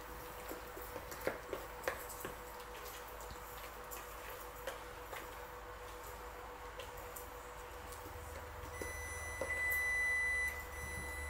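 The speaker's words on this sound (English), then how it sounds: "that beeping sound is the other cornbread that is done" Faint kitchen clicks and taps sit under a low hum before a thin electronic oven timer beeps near the end, signalling baked cornbread in a cast iron pan is done.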